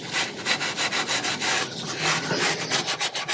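Close, rhythmic scrubbing strokes scraping surface rust from a part of a neglected barn-find Corvette C4, a steady back-and-forth rasp repeating about three times a second with no talking.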